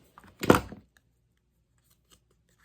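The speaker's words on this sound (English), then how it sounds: "I'm going to use my scissors just to cut that little nib off." Scissors snip once through paper to trim a small nib from a punched piece in a junk journal craft, a single short crisp cut in near silence.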